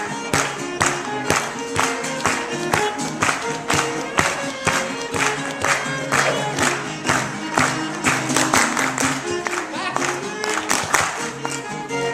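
An audience at a Renaissance faire finale claps in rhythm along with a live song, sharp regular beats ringing out loud over the music and singing for the whole stretch.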